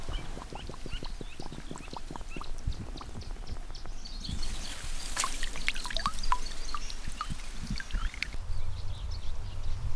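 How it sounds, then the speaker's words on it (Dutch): Water poured through a cloth filter trickles in an uneven stream, with small splashes and gurgles and a brief louder gush near the middle. "gebruik dit om het water doorheen te laten lopen"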